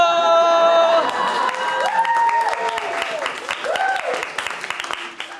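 A stand-up comedy audience bursts into applause and cheering with whoops, loud at first and gradually tapering off.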